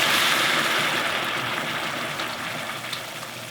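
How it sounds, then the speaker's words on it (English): Red wine poured into a hot oiled pan for deglazing, a steady loud hiss and sizzle that eases slightly as it settles, with no voices. "I'm going to deglaze that with some red wine"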